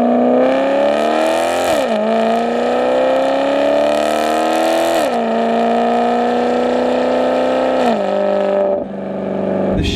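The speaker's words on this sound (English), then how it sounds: "You want to hear that beautiful V8 sound." A Maserati GranTurismo MC's V8 engine revs loud and close in repeated rising pulls through smooth gear shifts, each climb ending in a drop before building again.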